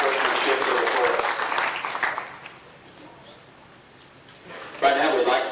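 Audience applause at a 1991 fan club banquet, a burst of clapping that fades into quiet murmur before a second short round of clapping rises near the end.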